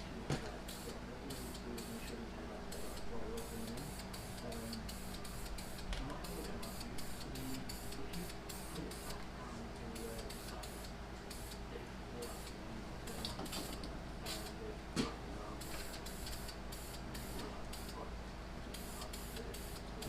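An E-153 transmission is spray painted, the can hissing in a long run of short, regular bursts close by, with talk over the spraying.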